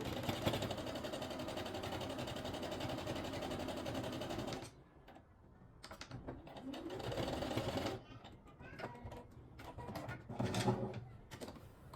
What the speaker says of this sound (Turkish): bir de şuraya bir düz dikiş dikeceğim